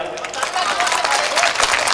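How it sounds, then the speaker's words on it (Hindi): Brief applause from a mushaira audience, a short burst of clapping with crowd murmur beneath. "एक बार मुशायरा कमेटी के लिए ताली बजा दीजिए जरा।"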